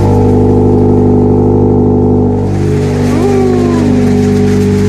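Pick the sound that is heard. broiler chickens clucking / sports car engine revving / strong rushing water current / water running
sports car engine revving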